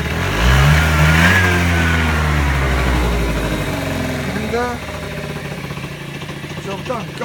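A Peugeot Speedfight 50cc moped engine starts and revs loud and close, its pitch climbing and falling through several throttle blips before settling into a buzzy idle; a voice speaks one brief word.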